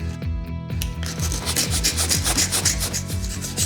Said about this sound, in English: before sanding the excess adhesive away